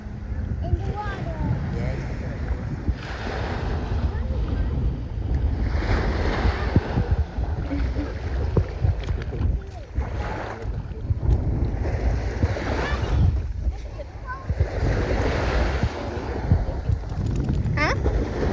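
Ocean surf rolls in at St George Island beach, with waves breaking repeatedly in a steady wash while heavy wind buffets the microphone throughout.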